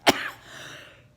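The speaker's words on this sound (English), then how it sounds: "I'm still fighting a little bit of a cough" A single short cough followed by a brief throat clear, close and fairly quiet, alone without talk.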